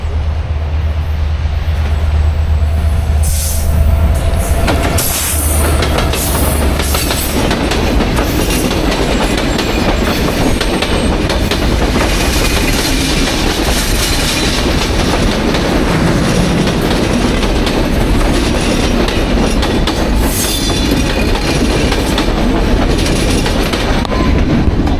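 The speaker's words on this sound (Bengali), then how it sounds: "দেখলেন আমরা এমন সময় এসেছি যে সময় ট্রেনও চলে এসছে গাইস।" A train arriving at Kushtia railway station, loud and close, with continuous rumbling wheels and rhythmic clickety-clack across the rails for the whole stretch, plus occasional squeals.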